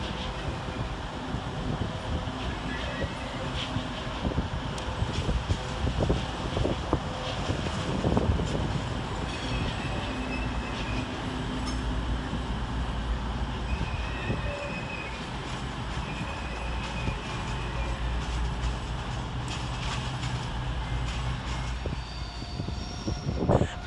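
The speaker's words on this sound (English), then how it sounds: "arriving to terminate over on the far side with an East Midlands Railway service off Nottingham" East Midlands Railway Class 222 Meridian diesel unit 222016 arriving to terminate at London St Pancras from Nottingham, wheels squealing over steady engine rumble and clattering railcars, with continuous station ambience throughout.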